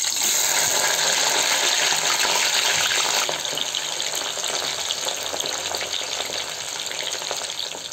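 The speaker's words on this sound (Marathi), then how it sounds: "ह्याच तेलामध्ये आपण आता फ्लॉवर तळून घेऊ।" Cauliflower pieces fry in hot oil that was just used for potatoes, a loud, continuous crackling sizzle that runs steadily throughout and eases slightly partway through.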